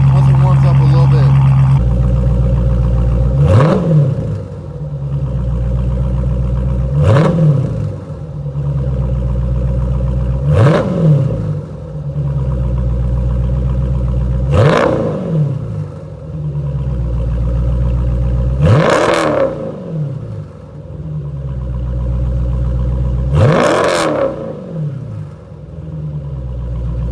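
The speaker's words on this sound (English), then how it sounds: "give you guys some revs once it warms up a little bit" A Scat Pack car with mid and rear muffler delete, its engine rumbling loudly at idle and revved sharply six times at a steady rhythm, each rev rising and falling back to a deep idle, close to the listener.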